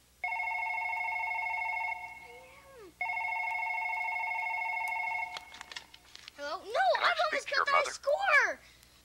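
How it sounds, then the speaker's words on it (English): Old-style telephone bell ringing in a children's manners film: two long loud rings with a short gap, followed by someone speaking after the phone is picked up. "Watch what happens when Clay answers the phone."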